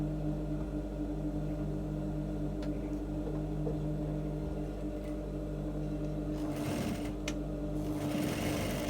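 A sewing machine stitches a bustier at a steady, continuous hum, with a brief louder patch of motor whir near the end and no talking.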